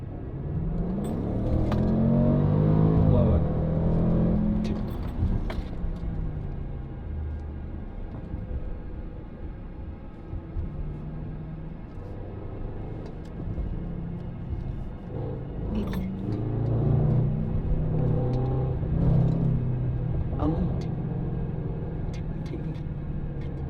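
A car engine, likely the Corvette mentioned as the rival in a street race, rumbles low and steady for the whole stretch, swelling louder at the start and again near the end with faint mechanical clicks and no voices.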